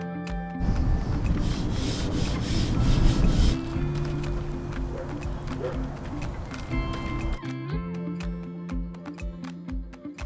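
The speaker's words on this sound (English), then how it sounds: "So this is tack cloth, and you're supposed to use it to get all the sawdust and stuff off" Tack cloth rubbing and wiping sawdust off the surfaces of a van being prepared for primer and paint, a close, steady scrubbing texture that runs throughout, with a few sharper knocks near the end.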